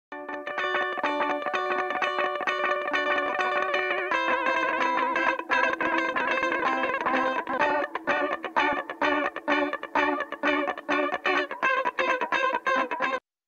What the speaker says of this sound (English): cranking the mod up on this slap will give the warbly effect